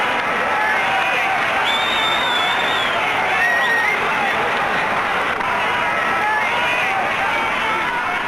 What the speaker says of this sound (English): Not many in the crowd cheering horse and rider